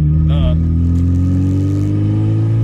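A Mk3 Jetta 2.0 8v ABA engine with a cut exhaust idles loud and rough with a raspy, unmuffled exhaust drone, steady throughout, with a brief high squeal early on.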